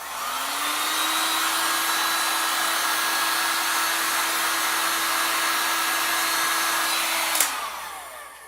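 A hair dryer blows steadily to dry paint on homemade Christmas ornaments, a loud continuous whirring hum that starts up, runs evenly for about seven seconds, then cuts off with a brief clunk.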